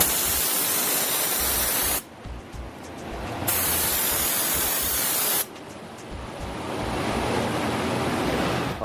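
Paint spray gun set to about 25 to 30 psi spraying coating onto a Toyota Tundra door, a loud steady hiss in long bursts with brief pauses between passes.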